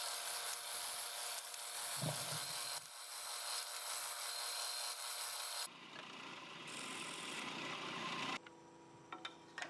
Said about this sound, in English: right here is a 1-inch Forstner bit. And we just clean out the ends on both ends.